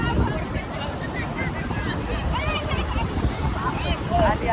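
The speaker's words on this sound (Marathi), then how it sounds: "लाट लाट आली" Ocean surf surges onto the sand at Kashid Beach near Alibag, a steady broadband wash mixed with wind buffeting the microphone, while excited voices shout over it throughout.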